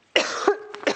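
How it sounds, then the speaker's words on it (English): One sharp, close cough with a short throat-clearing rasp, loud and alone, from a presenter at a sewing craft table. "I've got a tickly cough today."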